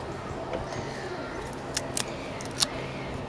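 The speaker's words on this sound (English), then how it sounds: "It's electrical tape only" Electrical tape being pulled off the roll and wrapped around a Ford Focus 1.5 TDCi car battery terminal, giving a few short, sharp tearing crackles over a low background hum.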